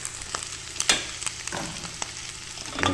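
Garlic and ginger sauté in hot oil for beef papaitan with a soft sizzle, punctuated by sharp spatula clacks and scrapes against the pan, and no talk.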